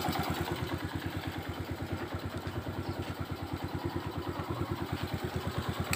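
Motorcycle engine idling steadily after a carburetor adjustment on a Honda Titan, an even, fast, regular putter close by with no talking over it.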